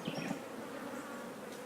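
Honey bees swarm thickly over a hive frame, a dense continuous buzz close by, with no voices.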